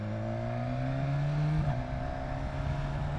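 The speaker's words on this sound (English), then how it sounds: "You guys know that I love a high revving inline 4." A 2019 BMW S1000XR inline-four motorcycle engine hums steadily, its pitch rising and dipping as it revs while riding, close and continuous with wind noise underneath.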